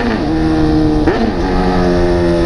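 A Honda Hornet motorcycle with custom camouflage or green paint revs loudly up close, its engine note rising in two steady pulls with no talk.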